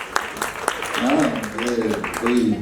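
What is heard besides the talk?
audience applause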